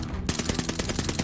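Rapid automatic gunfire in the video game Call of Duty Vanguard rattles in a fast, even burst of about a dozen loud, close shots after a brief lead-in.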